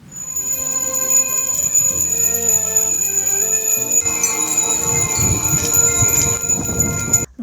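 Small memorial bells hung on a tree ring continuously in a bright, shimmering jangle with sustained high tones, fairly loud and close, with no talking.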